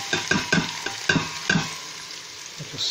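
Onions tossed into a hot pan for a stewed chicken curry base, sizzling under several sharp scraping stirs in an uneven rhythm, close and fairly loud, with no talking.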